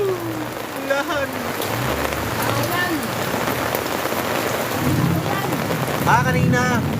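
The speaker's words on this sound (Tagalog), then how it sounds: "Ulan!" Heavy rain pours steadily on a roadside surface during a thunderstorm, with a constant dense hiss and rumbling thunder underneath, while distant voices and a rising and falling siren-like tone come and go.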